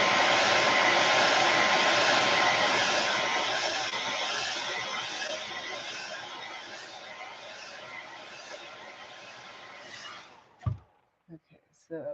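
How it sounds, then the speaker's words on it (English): A heat gun blows steadily for about ten seconds while it heat-sets paint on a fishing lure. It is a loud, close, broadband hiss that fades slightly before cutting off, followed by a few short clicks and handling knocks. "So I'm just going to heat set this real quick."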